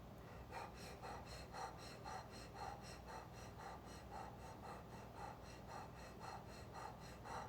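Bhastrika yogic breathing, forceful and even inhales and exhales repeating in a steady rhythm of about two breaths per second, close and fairly quiet, with no talk.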